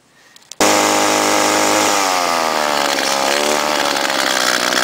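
A gas string trimmer's two-stroke engine catches after hard cranking, then runs loud and close with a raspy buzzing drone and wavering pitch, preceded by a brief quiet moment of pulling.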